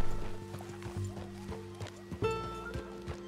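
Horse hooves clip-clopping and a neigh in the Red Dead Redemption 2 video game, irregular hoof steps close by over low music, with a louder whinny partway through.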